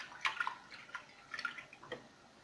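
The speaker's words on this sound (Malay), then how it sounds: "Dan kita masukkan air secukupnya" Water poured into a pressure cooker over horse meat for a Johor-style gormak stew, heard as quiet irregular splashes and drips in short bursts, close and faint with no talking.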